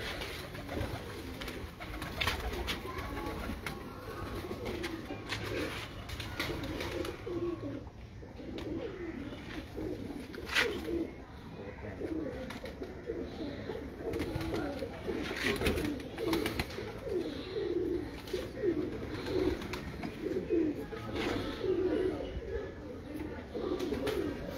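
Teddy pigeons from a main breeder's loft coo in soft, low, throaty murmurs that overlap continuously, with wing flutters and rustles, and faint human voices now and then.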